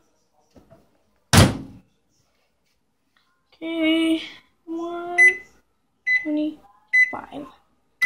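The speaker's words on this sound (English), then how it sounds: "Put them in the microwave." Microwave oven door shutting with a sharp thunk, then after a pause a series of short keypad beeps and tones in an indoor kitchen while popcorn minis are loaded, with a brief spoken word.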